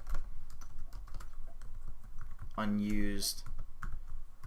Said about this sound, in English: Man, I can't type right now.